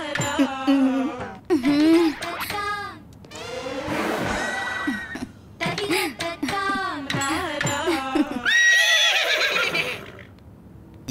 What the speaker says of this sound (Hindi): ये अरेबियन घोड़ी लगती है।